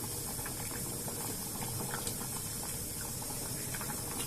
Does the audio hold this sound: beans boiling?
yes